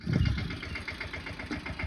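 A tractor engine idles nearby during well cleaning, a steady, rhythmic chugging throb, moderately loud and continuous.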